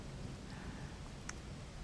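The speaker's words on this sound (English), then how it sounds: "Why don't we listen to the rain together," Soft, steady rain falls continuously as a faint, even hiss with no voices.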